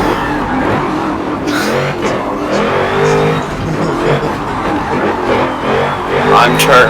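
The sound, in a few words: car engine revving in motorsport video game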